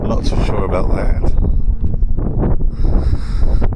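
Gusty wind buffets a microphone outdoors near an aircraft at an aviation museum, a steady low rumble of blasts running throughout under an indistinct voice.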